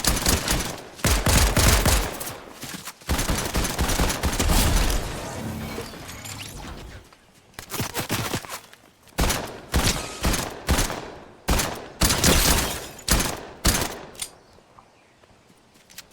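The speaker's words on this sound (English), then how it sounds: "Watch the gun, it lights up as I shoot it." Gunfire from a weapon in the Fortnite video game, heard as loud rapid bursts of automatic shots, first a long run and then several shorter volleys with brief gaps, with no voices over it.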